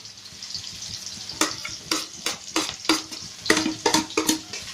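Sliced onion and green chillies fry in hot oil for a fish tenga meal, a soft continuous sizzle broken by about ten rhythmic scraping stirs of a spatula in the pan, close and without talking.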